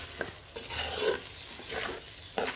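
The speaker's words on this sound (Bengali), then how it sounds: "পোলাওটা কিন্তু খুব সুন্দরভাবে ভেজে রান্না করব আমি" Pulao rice and garlic fry in a pot while being stirred, making a soft, close sizzle with repeated scraping strokes of the spoon, and no voices.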